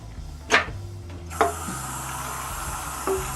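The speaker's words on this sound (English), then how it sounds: "After washing it, you want to rinse it with warm water again." Warm water runs from a kitchen tap over a greasy pan being rinsed, a soft steady stream with a few brief louder splashes as the pan shifts under it.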